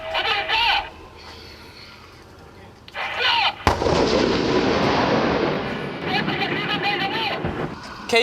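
A K1A1 tank fires its main cannon in one sharp, loud blast followed by a long rumbling roar that slowly fades, with someone talking before and after it.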